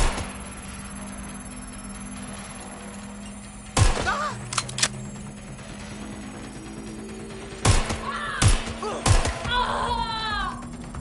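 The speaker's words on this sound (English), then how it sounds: "I'm taking fire." Gunfire aimed at the player in Watch Dogs Legion, heard as a few sharp, loud shots in short bursts spread over a steady low game hum, with quieter stretches between them.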